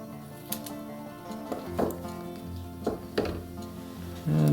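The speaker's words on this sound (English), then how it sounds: "we'll get a piece of tape, Kapton tape here. Cut off a short section" Scissors snip through a short strip of Kapton tape during an N scale model train electronics install, giving a few crisp, separate cuts up close over a quiet, humming background with no talking.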